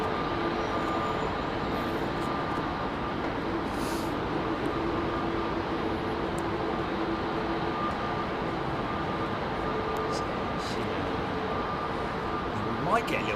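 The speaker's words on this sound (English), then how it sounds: "So the American triple moving into position." An American Airlines Boeing 777 taxis into position at London Heathrow, a steady broadband engine rumble with a faint whine holding evenly throughout, distant and continuous.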